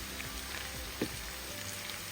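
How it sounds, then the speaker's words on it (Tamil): Beef sizzles and crackles steadily in hot oil, a faint, even frying hiss with small pops throughout. "மிதமான சூட்டில் அழகாக பொரிச்சு எடுக்கலாம்"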